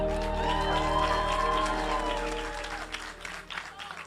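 An audience at a peaceful-coexistence event in Lagos claps and cheers loudly over sustained tonal sound, the applause strong at first and thinning toward the end.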